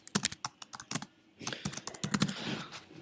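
Someone types steadily on a computer keyboard while building a flowchart in PowerPoint, with quick close clicks and short bursts of keystrokes that run together near the end, heard alone without talk.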